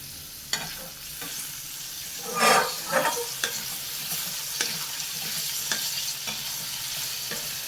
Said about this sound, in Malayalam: നമുക്ക് സോസേജ് ഒന്ന് ഇളക്കി കൊടുക്കാം.